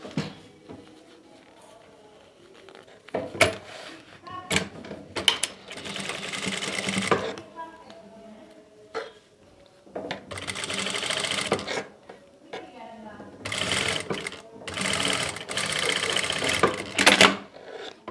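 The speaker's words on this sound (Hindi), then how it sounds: "और यहाँ से सिलाई लगा लेंगे।" A sewing machine stitches the shoulder seam of a cut top in several rapid whirring runs, stopping and starting between bursts, close and fairly loud.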